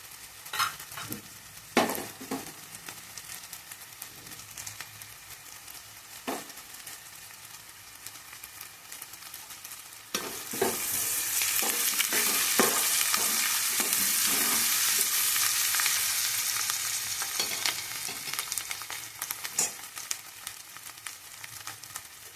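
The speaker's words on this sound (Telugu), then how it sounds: "ఇప్పుడు కరివేపాకు వేస్తున్నాను." Curry leaves tossed into a frying pan of browning onions for chicken curry, intermittent utensil taps and a soft frying hiss first, then a louder, bright, sustained sizzle with occasional stirring clinks.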